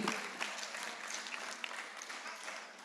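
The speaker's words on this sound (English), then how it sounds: "Let's give them a big round of applause." An audience at a youth center parent night claps for faculty, staff and the camera crew, a soft, distant, steady patter of many hands with no talk.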